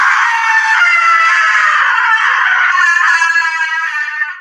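A shrill, high scream rings out from nearby bushes in a spooky campfire-style story recording. The wavering cry is loud and sustained for about four seconds, then fades at the end, with no talking over it.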